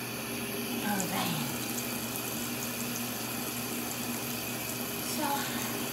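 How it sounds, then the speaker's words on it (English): Water runs steadily from a tap to fill a baby's bath, a constant broadband rush with a faint background hum and no talk over it. "I'm gonna put a little bit of water now."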